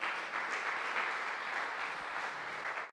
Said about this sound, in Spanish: te damos un aplauso